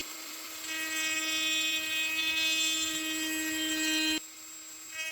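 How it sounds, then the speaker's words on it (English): A Dremel rotary tool carves detail into a towel on a handmade piece, whining at a steady high pitch for about three and a half seconds before cutting off abruptly, then briefly starting again. "So I'm using the Dremel, hoping to give the towel some detail."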